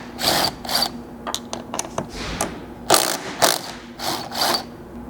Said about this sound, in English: So you need a 12mm socket to get those removed.